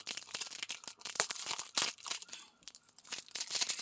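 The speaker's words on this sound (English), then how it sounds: "I think I'm just going to have to use the scissors and start it." Crinkly plastic packaging being cut open and torn with scissors, a run of close, bursty crackling and rustling snips that pauses briefly near the middle before resuming.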